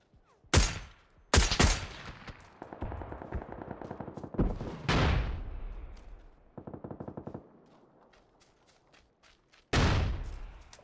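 Grenade explosions in PUBG on Xbox One: a few loud, sudden booms with long, rumbling decays, spread across the stretch and mixed with sharp bursts of gunfire, with no talking.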